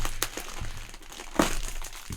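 A plastic package holding cable is opened up close, with crinkling and rustling of plastic and a sharper crackle partway through.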